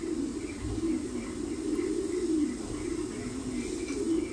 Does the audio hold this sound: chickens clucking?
no